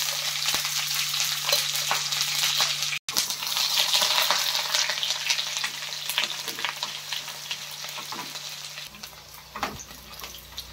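Onions and green chillies fry in a pan for aakakarakaya fry, giving a steady, close sizzle with stirring scrapes and light clinks throughout, briefly cut off once near the start, no voices.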